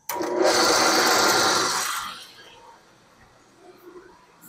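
A drill press motor whirs loudly for about two seconds, then spins down and fades into quiet workshop hum.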